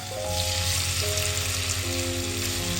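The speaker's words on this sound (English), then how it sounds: "Fry the chicken in batches." Chicken pieces fry in olive oil in a skillet over medium heat, giving a steady, close, continuous sizzle with a low cooktop or extractor hum underneath and no talking.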